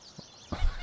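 A goose honking in the livestock setting of the farming game Farming Simulator 22, a single short, loud honk near the end after a faint earlier call, with nothing else around it.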